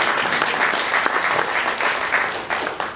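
An audience gives a warm round of applause for a talk about Civil War nurse Lucy Higgs Nichols. The clapping is dense and steady, filling the room for about three seconds with no talk over it.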